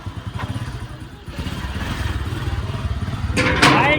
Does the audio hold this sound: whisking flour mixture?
no